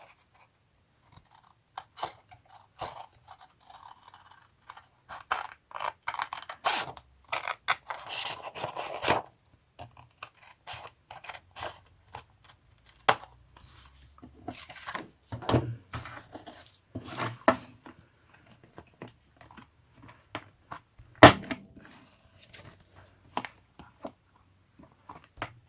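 Junk mail paper being cut for a craft folder: irregular crisp snips and papery crunches up close, in short bursts separated by quiet gaps, with no one speaking.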